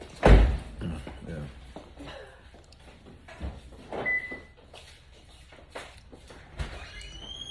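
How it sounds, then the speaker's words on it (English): A car door thuds shut loudly at the start, followed by faint clicks and clunks of locking and scattered knocks, with people talking throughout. "She locked the car door"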